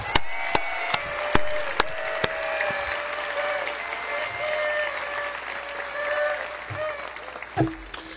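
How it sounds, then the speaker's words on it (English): An audience at a downtown state-of-the-city address claps, with a few sharp, loud claps at first, then dense, sustained applause that fades near the end. "Let's give them all one big round of applause."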